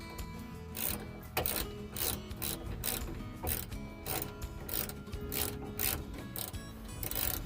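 A ratchet tightens a bolt on the driver's door of a 1986 Ford Mustang LX Foxbody during a window motor replacement. Quick, rhythmic clicking strokes repeat steadily up close, with no talking.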